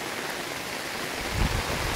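Steady rain pouring down in a village, an even close hiss of drops on surfaces that swells slightly partway through.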